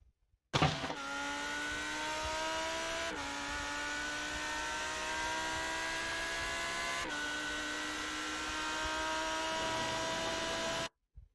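Lamborghini race car engine in the iRacing simulator at Motegi, a steady high-pitched whine holding at high revs with two brief gear-change dips, loud and alone.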